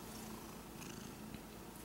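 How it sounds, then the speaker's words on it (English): A cat purrs steadily close by in a continuous low rumbling drone, with no voices over it. "Hey, pretty kitty."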